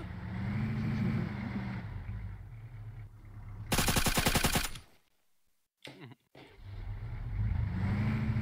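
A KSPK machine gun fires in a video game as one loud, rapid sustained burst of about a second, set against a rumbling vehicle engine that cuts briefly to near silence before returning.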